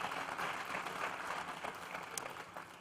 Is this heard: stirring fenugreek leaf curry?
no